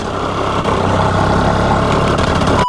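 Mini Porsche GT3RS kart engine bogging in second gear, a loud close rough low drone that stays strained and laboring for nearly three seconds before cutting off abruptly.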